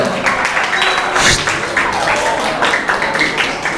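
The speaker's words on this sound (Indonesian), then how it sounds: "Baik, tepuk tangan untuk kita semuanya," A classroom of children at a Muslim youth lesson clap together, a dense, steady patter of applause filling the room at close range, with a louder burst partway through and faint voices underneath.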